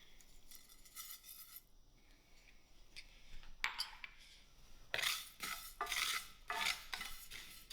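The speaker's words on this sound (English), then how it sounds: "I will stir till this come a little more brown." A utensil stirs and scrapes cumin and coriander seeds roasting in a pan. The close, quiet clinks and rattles come in bursts with short pauses between them.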